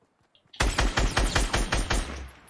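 Rapid automatic gunfire in the video game Fortnite, a loud burst of about nine evenly spaced shots over two seconds, close and punchy, after a brief quiet start, with no talk over it.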